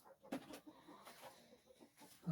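A chicken clucks several times, with short rough calls spread across a couple of seconds over a faint background, in a workshop where an IZh Planeta motorcycle is being built.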